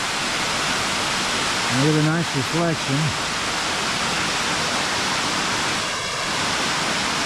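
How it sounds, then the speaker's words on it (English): Continuous rushing of a waterfall at a dam fills the background while someone speaks briefly over it. "And there you see the waterfall."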